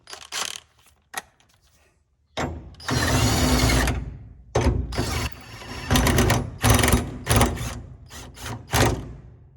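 An impact wrench fastens the cutter bar lock on a bean head, firing in several short and long rattling bursts separated by pauses, loud and close.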